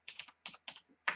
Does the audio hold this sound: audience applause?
no